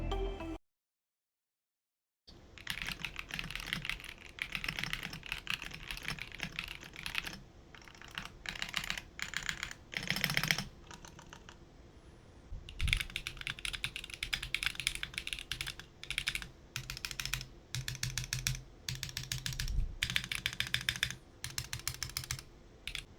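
Steady typing on a KBD67 65% mechanical keyboard fitted with Baby Kangaroo switches, a close, continuous run of clacky keystrokes with brief pauses and occasional heavier spacebar thocks, starting after a short silence.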